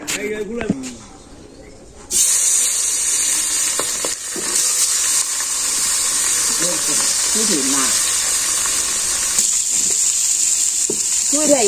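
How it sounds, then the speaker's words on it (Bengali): Oil sizzling in a pan ahead of frying fish, a loud continuous hiss that starts abruptly and holds steady, with faint bird cooing and indistinct voices in the background. "মাছ ভাজার জন্য প্রথমে তেল দিয়ে দিচ্ছে।"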